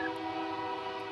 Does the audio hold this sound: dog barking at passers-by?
no